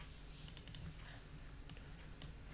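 Keys tapped on a computer keyboard while someone copies and types a name, a few scattered clicks in short bursts, soft and close against a steady low room hum.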